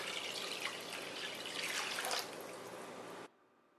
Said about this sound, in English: I am going to add 2 cups of water to it.